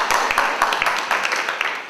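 Applause from a conference audience at a closing ceremony, a dense patter of many hands clapping steadily throughout at moderate loudness, with a voice speaking over it.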